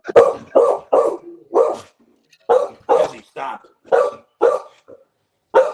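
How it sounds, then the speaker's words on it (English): A pet dog barks close by in a rapid series of about a dozen sharp barks in two bursts, with a person speaking briefly between them. "Don't mind my dog."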